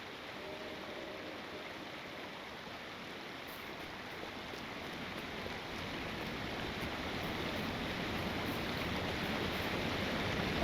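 A big waterfall in the game The Lord of the Rings Online roars as a steady, dense wash of rushing water that holds constant and swells slightly louder toward the end, with no voices.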